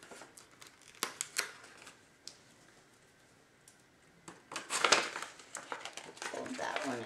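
A paper envelope is creased and folded into a small bag, with sharp crinkles and rustles in bursts, near and fairly quiet, while a person speaks softly in between.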